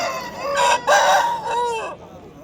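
A Kaki Nemali rooster at a poultry market crows once, loud and close, in a short stuttering cock-a-doodle-doo.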